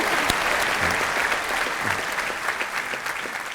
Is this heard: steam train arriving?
no